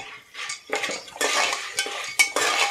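Salt and turmeric being stirred into popcorn in a pan, with a spoon scraping and clinking against the metal in short bursts and a steady rustle of kernels, close and fairly loud.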